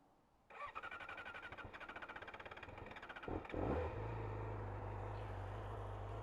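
A Yamaha motorcycle's starter cranks in a rapid, rhythmic churn for about three seconds, then the engine catches with a brief rev and settles into a steady, loud, close idle.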